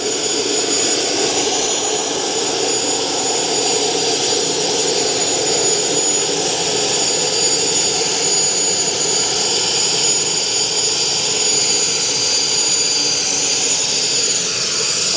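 Steady, loud aircraft engine roar with a whining turbine hiss, continuous throughout with no voices.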